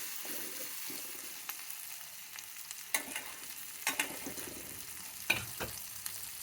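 Something fries in a pan ahead of the okra being added, a soft sizzle broken by several scraping stirs and clatters of a spoon against the pan.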